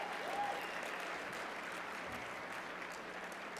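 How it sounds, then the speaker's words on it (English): Steady applause from the crowd at the Colorado Democrats' 83rd annual dinner after the presidential candidates are thanked, a dense, even wash of clapping that sounds fairly distant and holds level throughout. "Please give them another big round of applause for the work they did."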